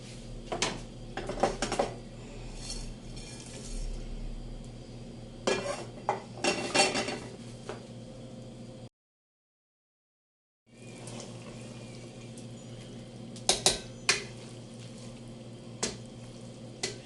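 Chicken stirred into spaghetti in a cheese cream sauce with a spoon, wet squelching and scattered clinks of utensil against the pan, close and moderate, with a brief silent gap midway and no talking.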